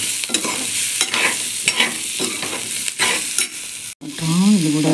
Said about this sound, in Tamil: அதையும் நல்லா வதக்கிறோம்.